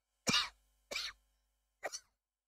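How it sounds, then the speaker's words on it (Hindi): Three dry coughs, spaced out with short pauses, close and fairly quiet against a silent background. "लेकिन अभी खांसी ये जा नहीं रही है।"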